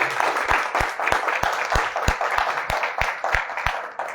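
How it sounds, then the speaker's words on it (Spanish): A church congregation claps during a Spanish-language service, with sharp, roughly rhythmic beats about three per second over a wash of crowd applause. "Den un fuerte aplauso al Señor Jesucristo"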